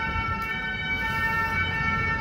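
An ambulance siren wails steadily in the distance, a sustained tonal whine over low road rumble, with no talking.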